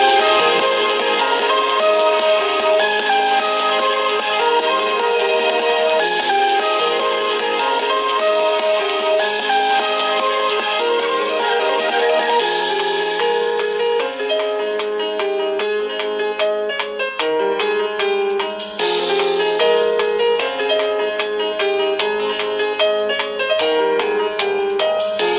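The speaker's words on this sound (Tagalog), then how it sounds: "Ito ang tunog ng speaker." An Honor X8b smartphone's single built-in speaker plays a melodic ringtone continuously at steady volume, with layered synth tones and brighter rhythmic plucks entering partway through.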